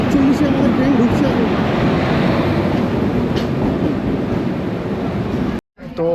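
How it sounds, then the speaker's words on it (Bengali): A train bound for Howrah pulls into a station platform with a loud, steady rolling rumble and rattle that fills the whole stretch. It cuts out briefly near the end. "আমাদের ট্রেন ঢুকছে।"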